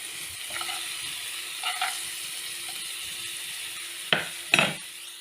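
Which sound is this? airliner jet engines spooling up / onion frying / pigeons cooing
onion frying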